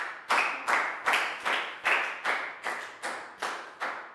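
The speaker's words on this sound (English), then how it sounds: "High five and a big round of applause for Lakau" A Year 4 science class claps in a steady, even rhythm for a pupil, about nine sharp, close claps spaced roughly half a second apart, with no talking.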